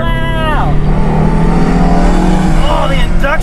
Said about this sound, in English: Oh, the induction's so good!